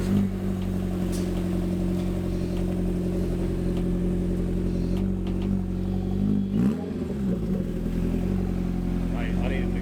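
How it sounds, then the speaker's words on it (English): A car engine with a loud aftermarket exhaust rumbles steadily and revs up around the middle, with voices talking over it throughout. "Mate, I need an exhaust like this on mine."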